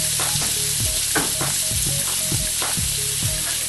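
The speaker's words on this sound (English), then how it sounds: "Alright, so we're gonna throw in the flank steak in there." Flank steak sears in a pan with toasted garlic, a loud, dense, continuous sizzle with rhythmic stirring scrapes repeating about twice a second, close up and with no talking.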